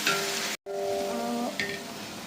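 Ginger garlic paste sizzles in hot oil in a pan for a vegetable biryani, a steady close frying hiss with a brief cut partway through and faint stirring, no voices.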